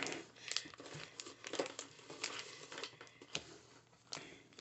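Plastic packaging around a strawberry squeezy ball toy is crinkled and torn open close up, with quiet, irregular rustles and crackles.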